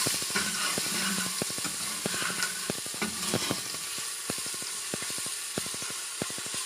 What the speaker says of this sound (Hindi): थोड़ी देर फ्राई करेंगे